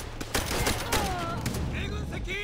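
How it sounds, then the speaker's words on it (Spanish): Bursts of machine gun fire crackle through a Call of Duty: World at War battle, rapid loud shots layered with game effects and a voice shouting over the combat. "Dura esa ametralladora, dura esa ametralladora."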